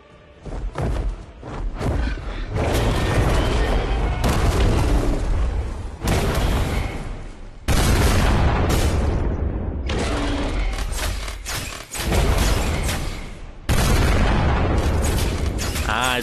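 Heavy bombardment of ballista positions in Darksword: Battle Eternity, a long stretch of loud, dense booming blasts and rumbling impacts in repeated surges, with brief dips between volleys.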